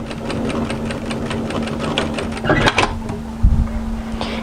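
A sewing machine runs a fast, even stitching rhythm along a 1.5 cm hem seam on a hooded A-line jacket, close and steady, with a brief clunk and a pause near the end.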